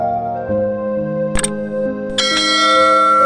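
Notification bell sound effect: layered sustained bell-like tones ring out, with two sharp bright chime strikes landing over them, loud and close with no talk.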